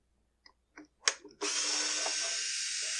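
A power driver spins out a fine-thread screw from the housing of a Husqvarna 125B leaf blower: a few short clicks and taps, then a steady, close, high-pitched whir held for about a second and a half.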